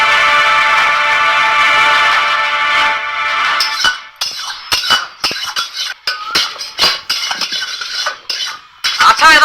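Pots and utensils clatter loudly during home cooking, beginning with a sustained metallic squeal and then breaking into sharp, irregular clangs and clinks close by, with no voices.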